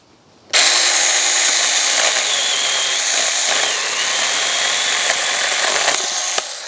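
An ASJMREYE 24v battery mini chainsaw starts abruptly and whines steadily while cutting a wooden log, loud and close, holding an even pitch until it cuts off near the end.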